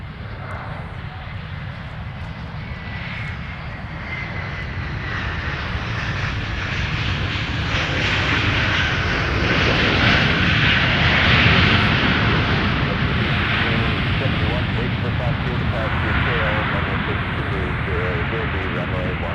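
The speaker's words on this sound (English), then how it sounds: "we're going to have a 321neo come in here." An Airbus A321neo arrives at Minneapolis–St Paul airport, its engine roar swelling from a distant rumble to a loud, broad rush close by and holding there, with a voice talking over it.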